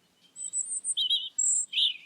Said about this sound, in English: the original bird of Christmas card sings iconically from a postbox coated in cotton-like snow